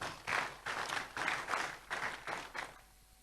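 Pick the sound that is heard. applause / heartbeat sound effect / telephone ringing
applause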